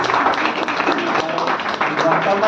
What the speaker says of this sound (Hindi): इसके लिए जोरदार तालियां बनती